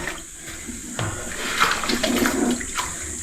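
Water gushing and running steadily out of a hole dug underground in sand, a continuous rushing wash with brief louder surges, close and fairly loud, with no talk over it.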